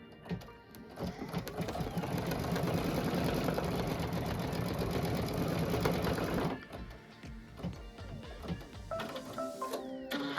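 A sewing machine stitches a pillow panel in one steady whirring run of about six seconds, then stops, followed by quieter intermittent mechanical clicks and handling sounds nearby.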